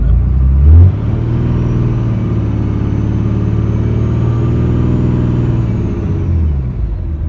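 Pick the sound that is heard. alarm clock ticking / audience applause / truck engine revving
truck engine revving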